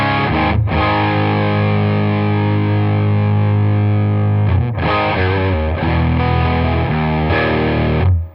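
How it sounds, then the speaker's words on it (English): Electric guitar through a Paul Cochrane Timmy overdrive pedal at medium gain, dense sustained chords with brief breaks between them, thick and loud, playing alone. "I'd say that's a medium overdrive."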